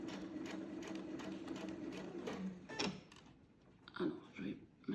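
A sewing machine stitches fabric along a quarter-inch seam, its busy mechanical whirr running steadily up close before breaking into short separate bursts near the end.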